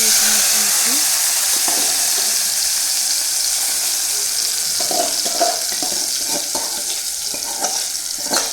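Hot oil sizzling steadily in a pan while fish curry is being cooked, a broad continuous hiss with a few louder crackles and stirring scrapes toward the end, close and fairly loud, no talking.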